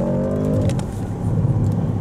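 A 2024 Audi S8 luxury sedan accelerates hard, its engine a loud, steady, close roar that climbs briefly before settling into a deep sustained drone for about two seconds.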